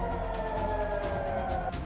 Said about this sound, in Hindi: बहरीन में सायरन बज रहे हैं।